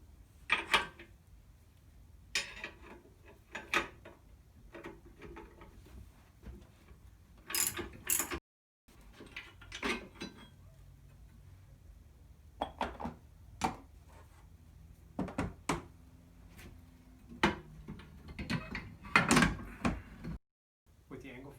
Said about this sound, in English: we'll pull off the angle frame